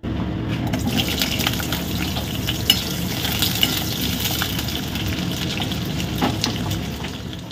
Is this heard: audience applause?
no